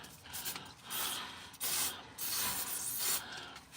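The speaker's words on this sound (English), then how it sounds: "I'm gonna spray the inside with a bit of brake cleaner" Brake cleaner hisses in short, uneven aerosol bursts as it is sprayed inside a truck part, close and fairly quiet, mixed with some rubbing and shuffling.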